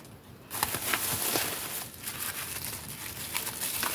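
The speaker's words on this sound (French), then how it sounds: "Alors, je vais remettre le scotch." Adhesive tape is pulled and pressed back onto a friendship parcel, a steady close crinkling and rustling with faint tearing bursts, no voices.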